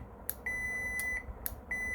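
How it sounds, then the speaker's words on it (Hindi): A multimeter buzzer beeps in short tonal bursts each time a relay switches during a continuity check on a DC inverter AC PCB, with two or three clear beeps and clicks over a low background hum. "जहाँ जब भी स्विचिंग इसमें होगी उसी वक्त क्या होगा, बजर बजेगी"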